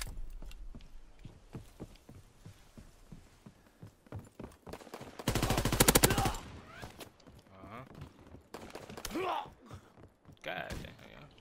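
A machine pistol fires in Call of Duty WW2, a dense, loud rattling burst of about a second midway, surrounded by footsteps and quieter game noise, with someone talking afterward.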